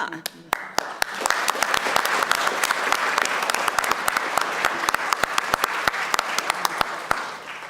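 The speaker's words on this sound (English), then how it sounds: "I'll let you think they were clapping for you, Steve." Clapping from the audience at a school board of education meeting, steady applause with distinct sharp claps close by and voices talking over it.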